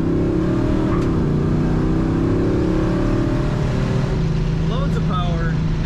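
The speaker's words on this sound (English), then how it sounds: "Such a great exhaust sound." A 1970 Oldsmobile Cutlass S with automatic transmission, its V8 engine and exhaust rumbling steadily from inside the car while driving, loud and constant, with someone talking over it.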